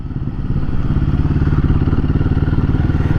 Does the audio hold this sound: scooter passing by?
yes